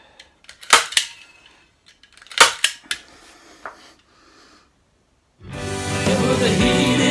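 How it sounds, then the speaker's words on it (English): A staple gun fires into pieces of a DIY acoustic treatment panel: several sharp close snaps in two short bursts with quiet gaps, then music starts loudly. "All you need to do with those is just staple them in, just to tidy them up."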